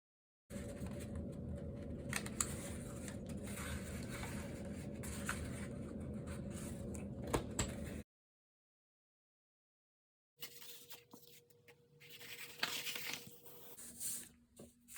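A knife cuts through a woven paper weaving sample for a journal, making soft, close scratchy rasping in two bursts separated by a few seconds of silence, quiet and without speech.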